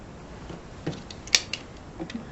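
Scissors cutting fabric along a drawn line for quilt flying geese blocks, with a few soft snips and one sharper close cut in a quiet room, and no talking.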